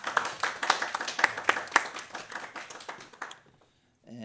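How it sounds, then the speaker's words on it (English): An audience at a talk on historic American tavern foods claps for a speaker, a dense burst of applause that gradually thins out over about three and a half seconds before falling silent. "another applause for Dr. Weaver,"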